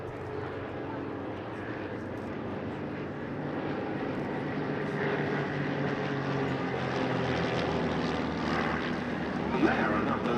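Propeller aerobatic aircraft of a display team rolling around their smoke trails at an airshow at Duxford, a steady droning engine hum rising slightly toward the end, under an announcer's commentary.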